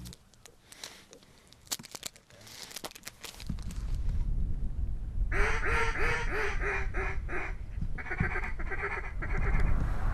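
Ducks quack in a rapid, repeated series from the middle onward during a duck hunt, loud and close over a steady rushing background, with rustling and crinkling sounds before the calls begin.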